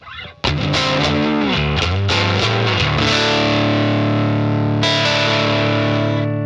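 Distorted electric guitar on the neck pickup through a Universal Audio Woodrow amp sim set to a fuzzy JP12 tone, played as a quick run of picked notes then a loud sustained chord that rings, stops, and is struck again.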